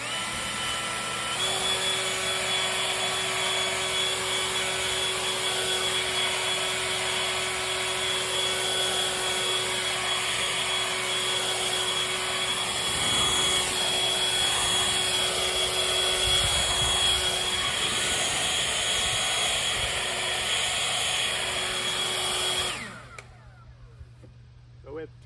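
A Greenworks 80V leaf blower runs in turbo mode with a loud, steady high-pitched whine and rushing air for over twenty seconds, then cuts off abruptly near the end.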